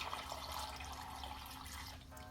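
Water poured steadily into flour in a bowl while making Jamaican coconut dumplings, a continuous close trickle and splash with no talking.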